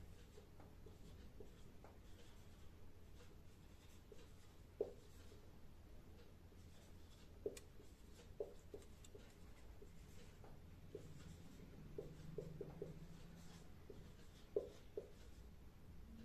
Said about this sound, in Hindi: तो चलिए इसको भी लिख लेते हैं।